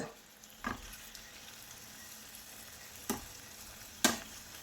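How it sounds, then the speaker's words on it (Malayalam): Prawns frying in about two tablespoons of coconut oil in a pan for prawn rice: a soft, steady sizzle close by, broken by a few sharp clicks and stirring knocks, with no talking. "നമുക്ക് ചെമ്മീൻ ഇട്ട് കൊടുക്കുന്നുണ്ട്."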